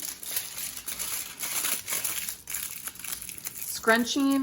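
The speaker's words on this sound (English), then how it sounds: "I'm gonna take this long, skinny piece of foil that I cut earlier, and I'm gonna start scrunching" Aluminium foil, a long skinny strip cut for making a foil figure, crinkles and crumples steadily as it is scrunched by hand, close and continuous, with a brief voice near the end.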